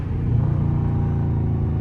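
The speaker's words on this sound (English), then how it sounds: "That hit that supercharger." Supercharged Dodge Scat Pack V8 during a downshift on a late-night drive, a loud, steady deep engine rumble with supercharger whine, heard from inside the car with no talking.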